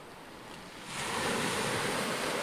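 Sea waves wash onto the shore at night in a steady, broad rush that swells louder partway through, close and continuous with no voices.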